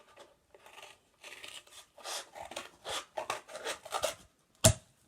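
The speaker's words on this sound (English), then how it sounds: "you're going to continue to cut the tube in the same size" Scissors slicing a cardboard tube into rings for a preschool flower craft, giving a series of short, close crunching snips in irregular bursts, ending with one sharp louder snap.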